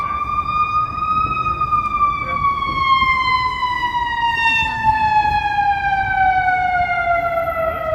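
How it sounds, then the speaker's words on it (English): An ambulance siren wails loudly close by in one long, slowly falling tone at Chicago and Michigan Avenue, Chicago, with traffic rumble and faint voices beneath. "Here comes some sirens."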